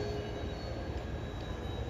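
A 15-car train at a station platform, a steady low rumble with a thin sustained whine, continuous and moderately loud with no talk.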